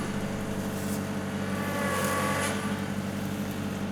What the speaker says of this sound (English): I'm going to move the tractor forward, shorten the rope, and that should pull the tree out of the way